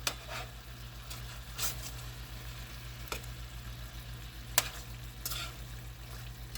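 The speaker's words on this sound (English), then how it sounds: "I'm going to let these soak in the hot butter for just a little bit longer" Chicken strips frying in hot butter, a soft continuous sizzle over a low steady hum, with a few faint clicks and stirring touches.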